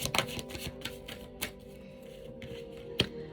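Tarot cards being shuffled in brief riffling bursts, close and fairly quiet, with a few sharper snaps standing out against faint background noise.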